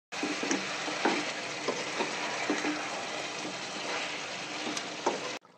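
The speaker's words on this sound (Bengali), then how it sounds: "এখন আলু দিয়ে কিছুক্ষণ একটু কষিয়ে নিব" Potatoes stir-frying in a duck curry, a dense continuous sizzle with occasional light spatula clacks against the pot, close and even, without talk, ending abruptly.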